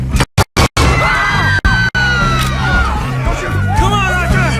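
Gunshots in Red Dead Redemption 2 ring out as a quick burst of loud bangs at the start and two more shots a moment later, over shouting voices and tense game action.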